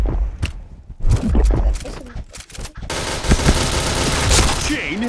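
Rapid machine gun bursts in the shooter game Point Blank, loud and close, first in choppy clusters then a sustained stream of fire, with a voice briefly talking underneath.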